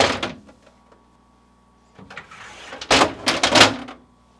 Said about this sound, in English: Then, pull the drawers forward,